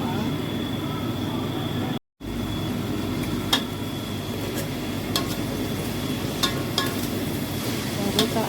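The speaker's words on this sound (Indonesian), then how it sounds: "Baru kita aduk-aduk." Chayote vegetable stew for sayur lodeh being stirred in a pot that came from a rice cooker, a steady bubbling, scraping texture with occasional sharp clinks of the utensil against the pot, close and continuous apart from a brief dropout.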